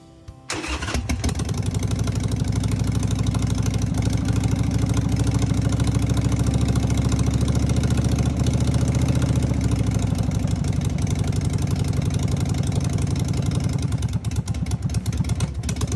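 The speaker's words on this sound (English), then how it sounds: "we did in fact get the motorcycle to start after sitting for 10 years" A Harley-Davidson motorcycle engine, started after sitting unused for ten years, cranks and catches, then settles into a loud, steady idle with a rough, throbbing rumble close by.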